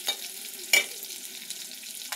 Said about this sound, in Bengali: আমি ভালো করে পেঁয়াজগুলোকে ভেজে নেব